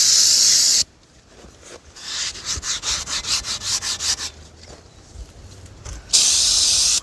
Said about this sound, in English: Everybody's favorite cleaner, carb cleaner.